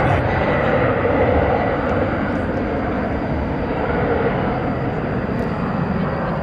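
A Boeing 767 taxis at DFW airport at night, its jet engines producing a loud, constant roar that holds steady throughout.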